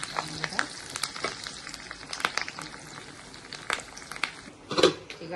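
Curry leaves sizzle and crackle in hot oil in a pan while cooking a bottle gourd and toor dal curry, with a steady frying hiss and sharp pops, partly under someone talking.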